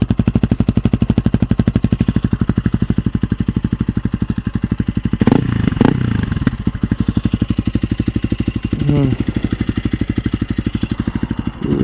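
A 2022 Honda CRF300L with a Yoshimura RS-4 full exhaust idling close and loud, its rapid even thumping carrying a rattle, with a short rev in the middle and a brief voice near the end.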